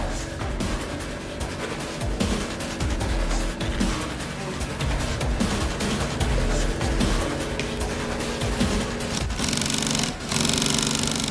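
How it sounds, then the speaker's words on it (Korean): An industrial sewing machine stitches a thick cowhide leather sofa cover, a loud, close, rapid mechanical chatter running in steady bursts with a short break near the end. "분주한 손길로 빠르게 재봉틀 위를 누비면 순식간에 소파 한 부위가 완성됩니다."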